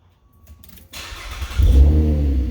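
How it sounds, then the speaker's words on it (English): A car engine starts after a short quiet lead-in with soft clicks, the starter briefly whirring before the engine catches into a loud, steady rumbling idle nearby. "Now we're gonna turn the vehicle on, start the vehicle"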